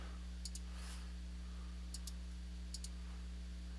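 Computer mouse clicks while selecting layers in sprite-sheet animation software, three pairs of crisp, quiet double clicks spaced apart over a low steady hum.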